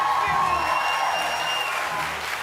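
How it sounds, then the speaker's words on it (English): Studio audience applause on a daytime talk show, a full, even wash of clapping from a crowd, fairly loud and sustained, with faint musical tones beneath. "I'm so honored that you're clapping."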